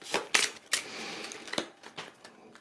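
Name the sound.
shuffling sanctuary game cards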